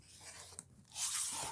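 Rotary cutter trimming a quilt fabric square on a cutting mat, one short rasping scrape followed by a longer, louder swipe, close and quiet with no talk.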